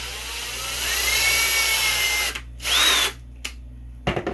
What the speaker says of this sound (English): This is really soft plastic. This is easy to drill through.